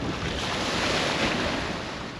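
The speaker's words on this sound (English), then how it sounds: "I'm hoping this wind drops soon" Strong wind roars across a fishing boat out on deep water, with waves surging and crashing in a dense, loud, continuous wash and no talking.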